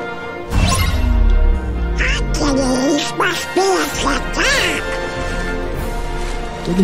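A person imitates Donald Duck's voice, producing a run of raspy, quacking, squawking syllables close up over game sounds.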